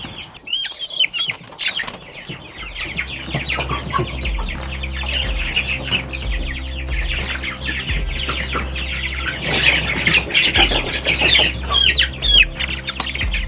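A batch of chickens on a homestead cluck and chirp close by, a busy continuous chatter over a low steady hum.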